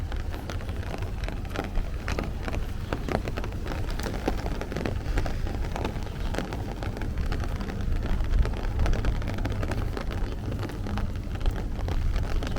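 Rain falls steadily on a street corner at Shore Road and Ridge Boulevard in Bay Ridge, Brooklyn, on a Sunday morning in June, a constant hiss with dense pattering drops and a low rumble beneath, with no voices.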